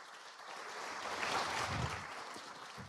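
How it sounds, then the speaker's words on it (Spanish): Audience applause for José Cueto, a soft, steady wash of many hands that swells slightly in the middle before easing off, heard from a distance. "Un fuerte aplauso,"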